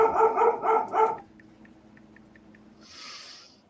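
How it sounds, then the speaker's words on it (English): A dog barks three times in quick succession, loud and close, with the barks bunched in the first second, followed by low, quiet room noise and a faint hiss near the end. "I got a dog barking here."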